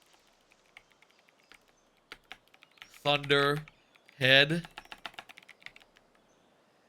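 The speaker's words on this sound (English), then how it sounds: "Excuse the sound of tapping. I'm got a nice physical keyboard here." Fingers tap on a physical computer keyboard in light, scattered clicks, fairly close, broken by two short spoken words from a man.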